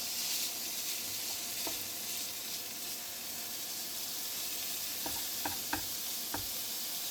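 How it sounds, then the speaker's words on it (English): Minced meat sizzles steadily in a pan with a constant hiss, a few faint clicks and scrapes from a plastic fish turner breaking through near the end. "You have a little bit of sizzle. Now we want to break the mince up."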